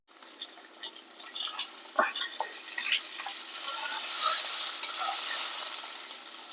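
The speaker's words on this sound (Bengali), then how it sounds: "পটল আলু ভাজা আস্তে আস্তে প্রায় হয়ে এসছে" Pointed gourd and potato pieces fry in a pan, a soft hiss of sizzling oil that builds and holds steady, with scattered light clinks and bubbling pops.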